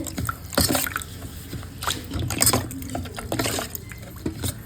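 Water is poured over semolina and mixed into malpua batter, giving wet splashing and sloshing bursts, close and moderately loud, with no voices.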